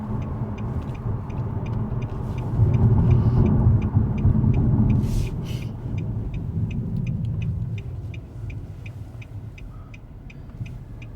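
A 2016 Nissan Maxima SR drives through daytime downtown LA streets, its engine and road noise a steady low rumble that swells briefly, with a faint regular ticking throughout.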